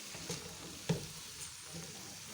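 Potatoes, peas, fenugreek and other vegetables frying in spice masala, a soft steady sizzle with an occasional stir or clatter in the pan, no voices.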